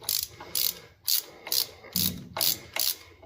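A ratchet loosening nuts on a Honda engine during fuel injector work, seven rhythmic close clicking bursts about half a second apart, loud and clear with no talking.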